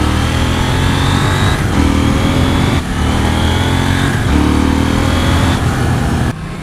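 A KTM Duke 790 A2 motorcycle engine drones loudly from the rider's position, its pitch rising through each gear and dipping briefly at the shifts, with steady wind rush and no talk.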